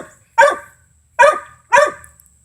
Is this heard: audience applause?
no